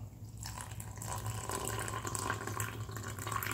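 Clean water poured steadily into a container while cooking, a continuous splashing trickle that lasts the whole moment, close and moderately loud, with no talking.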